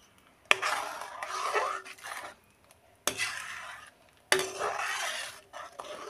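A spoon stirs and scrapes a frying spice paste of ground onion, garlic, ginger, cumin, coriander and turmeric with salt in a pan for a boroli fish curry, in three separate bursts of rasping scraping with a faint sizzle, close by.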